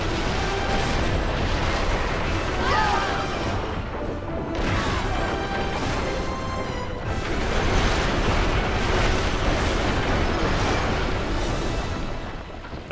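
A lit bomb goes off in World of Warcraft, loud rumbling blasts and crashing bursts that roll on continuously with a few sharper hits along the way.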